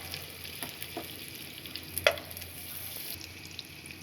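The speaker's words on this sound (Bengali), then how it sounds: "চুলাতে আগে থেকে কড়াই বসিয়ে দিয়ে দিয়েছি। এখন এখানে দিয়ে দিচ্ছি আমি বাটার।" Butter sizzles in a hot wok for fried rice, a steady, moderate crackle with light spattering pops and one sharper clink near the middle.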